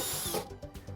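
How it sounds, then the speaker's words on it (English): A file bit in a power drill grinds against the metal of a vehicle frame to enlarge a hole, giving a loud whining rasp that dips and surges briefly as the tool moves back and forth. "when using a file bit, we're going to make sure we apply pressure on our section that we want to enlarge"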